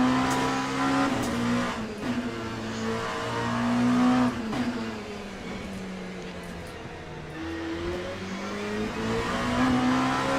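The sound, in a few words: race car engine and braking in Le Mans Ultimate video game, Portimao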